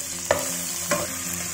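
Minced ginger, garlic and onion stir-fry in the oil left from frying tofu, giving a steady close sizzle with two distinct spatula scrapes and no voices.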